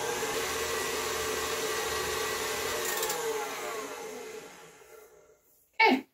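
An electric mixer whirls a dark brown sugar mixture for sticky toffee pudding, a steady close whine that runs for several seconds, fades out, then gives way to a brief loud knock or clatter at the end.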